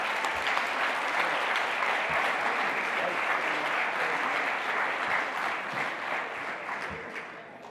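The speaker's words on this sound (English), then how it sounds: "Please give a round of applause for everybody who's put together this amazing event." An audience at an opening ceremony and annual general meeting gives the event organizers a long, dense round of applause that holds steady for several seconds and then gradually fades away.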